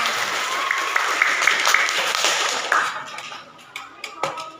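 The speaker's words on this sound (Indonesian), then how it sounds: "kita kasih tepuk tangan" Classroom applause as students clap for a classmate who answered correctly, a steady burst of clapping that fades out after about three seconds, leaving a few isolated knocks.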